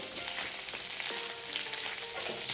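Green chillies and asafoetida sauté in hot oil, giving a steady, close, crackling sizzle with small pops and light stirring scrapes, with no talk over it.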